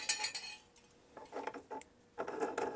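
A laptop power supply clamped into a metal vise, with several sharp metallic clanks and scrapes close by, a brief burst at the start and a second cluster near the end, no talking.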